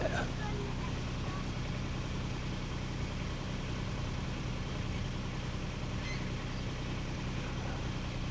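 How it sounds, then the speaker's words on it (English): A loud garbage truck collecting trash on a public street rumbles with a steady low engine drone and mechanical clatter behind the listener, continuous throughout, with a voice talking faintly over it. "there's somebody picking up garbage behind me. This truck is mad loud"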